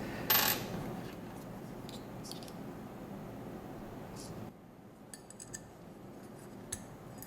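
Small metal dowel pins clink as they are handled in a workshop: one loud jingling drop at the start, then a few faint light ticks and taps over steady background hiss.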